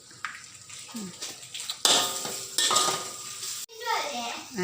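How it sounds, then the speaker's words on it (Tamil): Fried rice with egg being stirred and tossed in a hot pan, sizzling steadily with scraping bursts of the utensil against the metal, close and fairly loud. "நல்லா இப்போ கிளறி விட்டுக்குவோம்"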